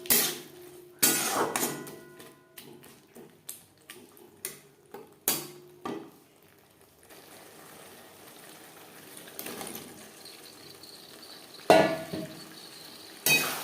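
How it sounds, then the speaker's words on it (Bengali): Masala spices being stirred in a cooking pan for a potato and rohu fish head curry, with scattered scraping and clinking strokes of a utensil against the pan, some sharp and close, separated by quieter stretches. "অবশ্যই নাড়াচাড়া করে দেবেন। আমি এই মশলা কষাতে কষাতে অন্য কাজ করছিলাম।"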